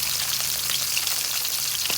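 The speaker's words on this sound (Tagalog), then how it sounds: "prito na natin yung tilapia" Tilapia frying in a hot pan, a dense, steady sizzle and crackle of oil that holds at an even loudness throughout, close and without talk.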